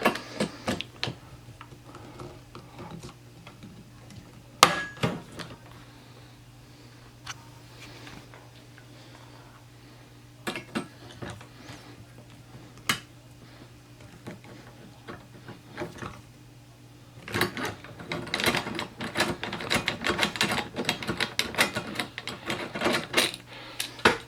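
Riv nuts are set into a metal mounting bracket with a run of sharp ticking clicks, sparse at first and then a dense rapid clatter of tool crunches near the end, close and fairly loud with no speech.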